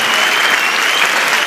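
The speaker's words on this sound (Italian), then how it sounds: "Facciamo un applauso ai tanti magistrati che hanno lavorato su queste inchieste." A crowd at a public commemoration event in Florence applauds magistrates with a loud, steady wash of clapping that holds throughout.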